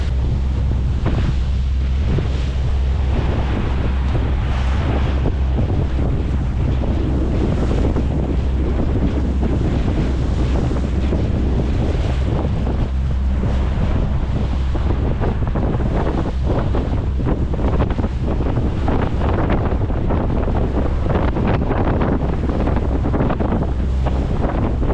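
Steady, roaring wind buffets the microphone over open water, with waves and the rush of a moving boat beneath, continuous and loud throughout.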